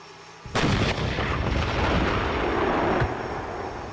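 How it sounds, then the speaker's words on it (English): Incoming gunfire during a video game mission, a sudden loud barrage of heavy, booming shots and blasts that rolls on continuously, with another sharp report near the end. "We're taking fire here."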